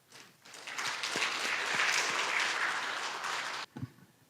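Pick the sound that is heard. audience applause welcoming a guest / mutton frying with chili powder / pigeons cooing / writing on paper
audience applause welcoming a guest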